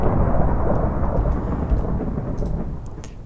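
A lightning strike from a potion in Minecraft booms as a loud, rolling thunder-like rumble that slowly fades, with faint crackles on top, and there is no speech.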